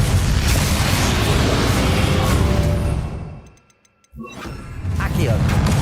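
A Confringo blasting spell in Hogwarts Legacy erupts in loud, dense booms during the battle against Ranrock, breaking off into near silence midway before more blasts resume.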